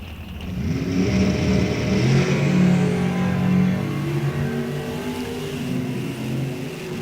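NHRA drag racing cars rev and accelerate hard down the strip, a loud, sustained engine roar with rising and falling pitch that fills the whole stretch, with no talk over it.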